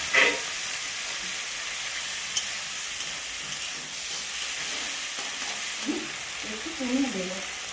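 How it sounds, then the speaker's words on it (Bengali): Fish fries in hot oil in a wok, giving a steady, close sizzling hiss throughout, with a faint voice briefly audible near the end. "কড়াইটা গরম হয়ে গেছে, আমি পরিমাণ মতন তেলটা দিয়ে দিচ্ছি। এখন আমি মাছটাকে দিয়ে দেব।"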